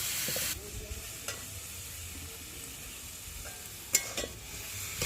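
Vegetables for a chicken stew sizzle softly in a pan, with a few sharp scraping stirs and clinks breaking through the steady, fairly quiet hiss.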